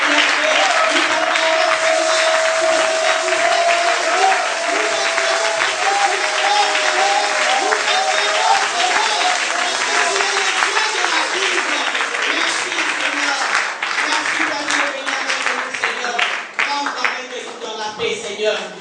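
A church congregation applauds in a sustained, dense wave of clapping that fills the room, with voices mixed in, easing slightly toward the end.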